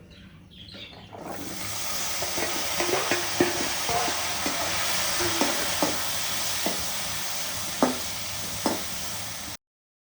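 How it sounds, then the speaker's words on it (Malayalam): Tomatoes and onions drop into a hot pan and sauté with a steady sizzle, punctuated by several sharp stirring clicks and scrapes, close and fairly loud, with no speech. "നമുക്ക് നമ്മുടെ തക്കാളി, ഉള്ളിയൊക്കെ ഇട്ട് കൊടുക്കാം. ഒന്ന് നല്ലൊന്ന് വാട്ടിയെടുക്കാം."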